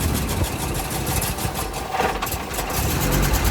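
An Audi Coupe engine idling just after its first start from cold, following a leaking fuel filter replacement, a steady close mechanical running note with slight unevenness and a brief surge in revs midway.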